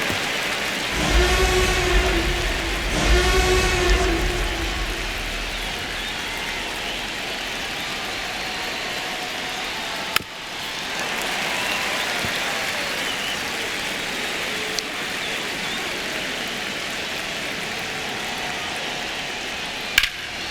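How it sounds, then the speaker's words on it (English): Crowd noise fills a virtual baseball stadium in MLB The Show 25 during a Mets at Yankees game: a steady, distant roar throughout, with a brief swell of cheering near the start. "Crowd locked in right now."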